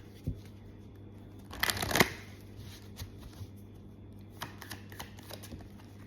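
Romance angel oracle cards are shuffled by hand at close range, with a short burst of riffling flutter in the middle and a few soft, scattered card taps and clicks before and after, quiet and without talk.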